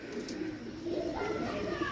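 A pigeon coos in low, soft, repeated calls among a pair of male and female pigeons for sale in Pakistan, heard over a constant background hum with faint talk.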